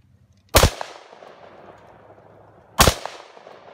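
Two loud, sharp single shots from an AR-15 rifle at an outdoor range, spaced about two seconds apart, each with a quick echoing tail.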